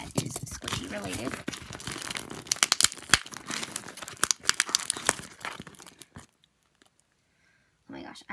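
Crinkling and tearing of a supplier package being opened, packaging crumpling and snipping in a dense burst for about six seconds, then near silence with a brief rustle at the end; a person talks throughout.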